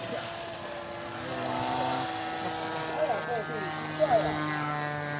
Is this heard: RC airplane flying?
yes